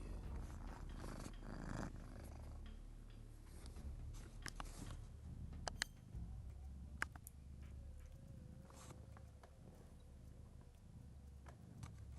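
A domestic cat purrs in a low, steady rumble running throughout, fairly close, with a few soft clicks and small bumps along the way and no talking.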